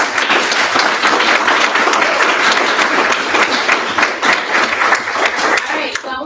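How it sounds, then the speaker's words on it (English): An audience gives a final round of applause at an intern symposium, with dense, continuous clapping from many hands that holds steady throughout and tapers slightly at the end. "just one last round of applause for everyone"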